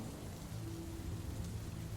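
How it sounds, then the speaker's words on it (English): Wind and rain sound effect in a tabletop adventure scene, a steady dense wash of rainfall with a low rumbling wind underneath, continuous and fairly loud without speech. "another wave of wind and rain come down across it."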